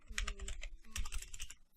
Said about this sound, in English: Let's just type in CodeBlocks.